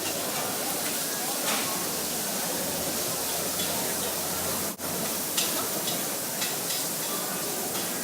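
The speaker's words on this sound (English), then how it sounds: "In the meantime, the bacon is cooking." Bacon frying in vegetable oil in a pan gives a steady, close hissing sizzle throughout, with a brief dip partway through.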